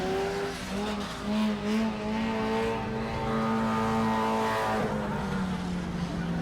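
Race cars roaring around a skid race track at Auburndale, engines droning loudly and continuously with tire squeals and skidding mixed into the dense, sustained noise of the pack.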